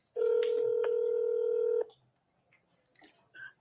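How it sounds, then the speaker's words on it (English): A phone number is dialed on a telephone to someone in Georgia. A loud, steady dual-tone keypad beep runs for under two seconds, then faint clicks and a brief ring-like tone follow. "I'm going to call somebody else in Georgia."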